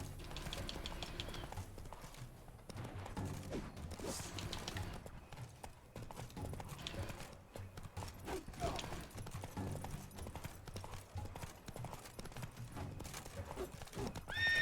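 Hoofbeats of a galloping horse in The Witcher 3 video game, a rapid rhythmic clip-clop driving steadily throughout, with a whinny mixed in and a faint game soundtrack beneath.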